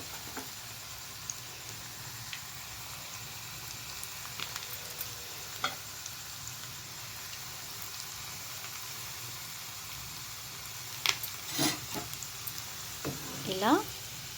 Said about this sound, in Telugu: ఇలా ఒక్కొక్కటిగా మనము పకోడీలాగా వేసుకోవాలండి